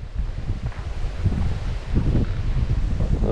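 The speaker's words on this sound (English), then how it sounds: "And it's so windy." Strong wind buffets the microphone outdoors beside a ditch in Indiana fields, a continuous rumbling gusty roar with surging low thumps and faint rustling.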